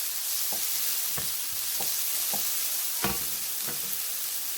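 Onion frying in a pan with a steady soft sizzle, punctuated by regular spatula strokes and scrapes about every half second, no voices.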